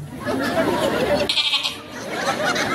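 A human voice imitates a goat kid bleating, giving a short upward-pitched wavering bleat in the middle of ongoing speech at a Maulid Nabi religious gathering, with talk before and after.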